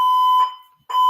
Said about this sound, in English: Lemon says, Sherry, you're smoking and setting off the fire alarm.